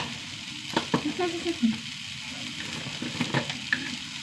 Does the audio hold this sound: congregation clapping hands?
no